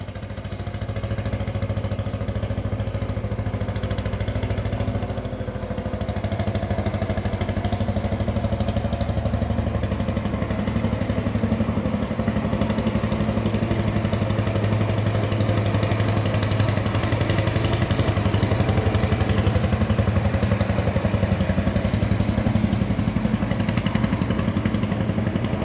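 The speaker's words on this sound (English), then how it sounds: "Two classic tractors. They're very obnoxiously noisy, aren't they?" Two classic tractors run nearby outdoors close to a railway footbridge in Exeter, a continuous loud, rough engine chugging that holds steady for the whole stretch.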